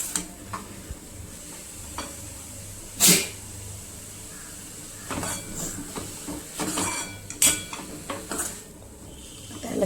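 Grated ridge gourd chutney is stirred in a pan, with irregular scraping and metallic clinks of a spoon against the pan over a low sizzle.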